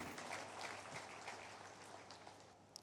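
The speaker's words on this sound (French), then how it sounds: "applaudissons pour Jésus-Christ." A congregation applauds inside a church, a dense, steady patter of many hands that fades slightly toward the end, with no talk over it.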